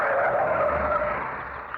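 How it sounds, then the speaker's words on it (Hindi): A car brakes hard and skids to a halt, its tires squealing loudly in one sustained screech that fades slightly toward the end. "गाड़ी रोक।"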